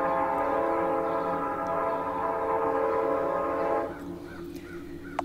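A train in the video game Parasite Flower pulling in with a loud sustained horn-like tonal drone that cuts off abruptly near the end, leaving a quieter rumble and a faint click.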